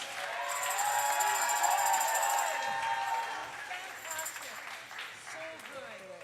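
Applause from an audience for student performers swells and then gradually fades, with scattered cheers and voices mixed in.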